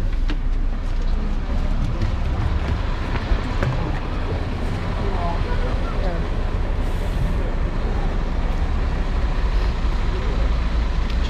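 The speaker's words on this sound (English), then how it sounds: "easy, short bus ride, about half an hour, and slightly crowded" Continuous engine rumble and road noise inside a slightly crowded bus riding from Split to Trogir in Croatia, steady and unbroken throughout.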